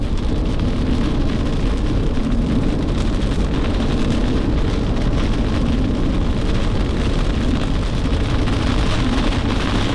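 Steady heavy rain drums on a car driving in Wisconsin while tires and road noise roll underneath, a dense constant wash of sound.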